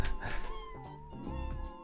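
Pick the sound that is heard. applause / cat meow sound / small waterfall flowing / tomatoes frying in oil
cat meow sound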